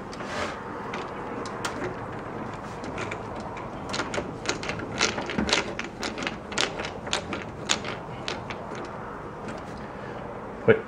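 Screws driven in to mount a drive in a PC tower case, a run of quiet irregular clicks and ratcheting ticks from a screwdriver, close and faint, without speech.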